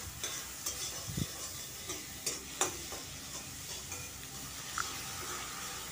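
Turmeric and cumin powders stirred and lightly fried in a pan for an egg curry, a soft continuous sizzle with scattered scraping taps of the spoon against the pan, steady and close, with no talking.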